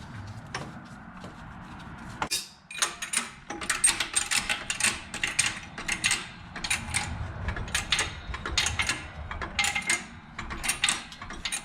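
A car jack is raised under a Lexus GX470 to fit a rear strut, making a string of quick ratcheting, clacking strokes in an irregular rhythm, close and moderately loud.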